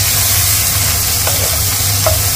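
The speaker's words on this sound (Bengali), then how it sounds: "তার জন্য পেঁয়াজটাকে আগে ভালো করে কষে নিচ্ছি" Chopped onions sizzle and fry in a pan as the base for chicken curry, a steady loud crackling hiss with a couple of brief stirring scrapes.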